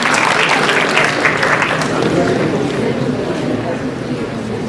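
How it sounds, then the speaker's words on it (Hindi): Audience at a UPSC toppers event applauding loudly as a guest is called to the stage, a dense continuous roar of clapping that slowly eases, with some voices mixed in. "कुणाल मुरारी जी, एक बार जोरदार तालियां."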